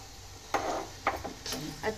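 Roasted oats get stirred into an oats and moong dal khichdi with a spoon that scrapes and knocks against the pot in four short strokes, close by and fairly soft.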